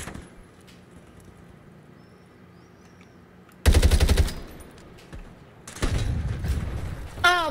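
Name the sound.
shotgun or sniper gunfire in Call of Duty video game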